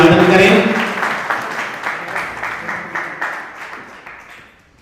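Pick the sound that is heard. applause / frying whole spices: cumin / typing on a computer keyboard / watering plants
applause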